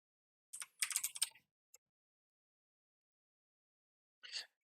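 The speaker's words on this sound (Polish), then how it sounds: "teraz wpisujemy neofetch, tak jak przed chwilą" Someone types a short command on a computer keyboard during an Ubuntu Linux setup, heard as a quick close burst of clicking keystrokes, one stray tap, a long silence and then a final brief flurry of keys.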